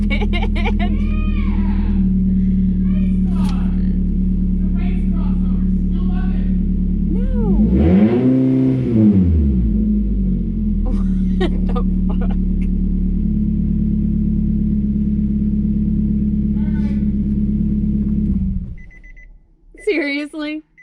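A car engine idles with a steady, droning exhaust note, then revs up and falls back in a swell midway before settling, ending abruptly as voices are heard nearby.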